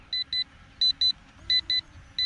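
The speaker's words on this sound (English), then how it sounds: "Oh, now we're getting a beep." Low battery warning from a DEERC D65 sub-250g GPS drone, sharp high-pitched beeps sounding in quick pairs, seven in all, clear over a faint background hum.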